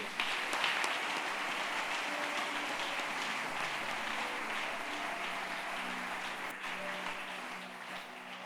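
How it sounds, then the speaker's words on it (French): A church congregation at a Sunday morning service applauds and cheers, a dense continuous wash of clapping that stays loud and steady before easing slightly toward the end. "Est-ce qu'on peut acclamer le Seigneur?"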